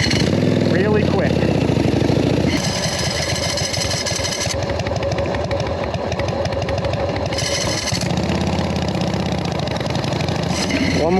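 Jockey-shift foot-clutch motorcycle with no front brake, its engine idling steadily close by, with a brief rev partway through and a person talking over the engine.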